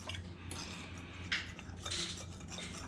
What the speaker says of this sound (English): Just kind of keep it stirring in between there.